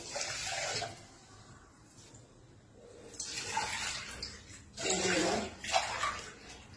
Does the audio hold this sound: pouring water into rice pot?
yes